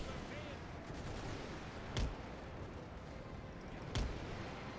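Tanks fire during a battle in the World War I strategy game The Great War 6.0. Two dull, booming shots land about two seconds apart over a dense, constant roar of battlefield noise.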